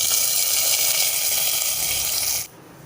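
Tempering poured into manathakkali keerai saaru, a Tamil greens soup, gives a loud, steady broadband hiss that runs for about two and a half seconds and then cuts off abruptly, leaving a quieter background.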